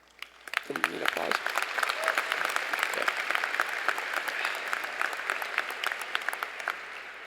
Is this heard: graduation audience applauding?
yes